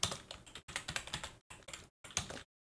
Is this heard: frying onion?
no